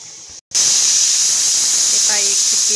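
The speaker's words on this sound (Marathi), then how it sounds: "कुकरची आता शिट्टी येत आहे" A pressure cooker on a gas stove, cooking vegetables for pav bhaji, lets out a loud, sustained steam whistle that starts suddenly after a short gap and hisses on steadily close by.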